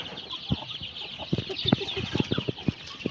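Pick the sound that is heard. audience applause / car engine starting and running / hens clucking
hens clucking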